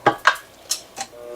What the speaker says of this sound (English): just scrape down the sides of the bowl